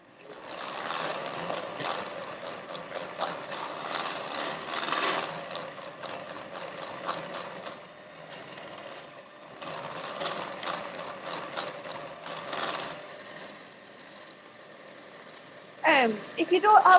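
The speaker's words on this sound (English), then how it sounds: "Usually you'll sort of hear it scratching a little bit, and that's the sugar dissolving in the fat." Butter and sugar creamed together by a mixer give a steady gritty, scratching whir with rhythmic mechanical pulses that dip and resume, moderately loud, with a brief clatter at the end.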